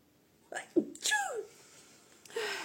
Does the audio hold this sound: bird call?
no